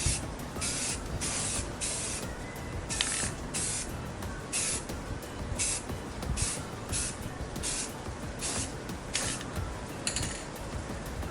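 Spray paint hisses in repeated bursts with short pauses as a 1995 NA Miata's wiper arms get a coat, a small fan running nearby to carry the overspray away.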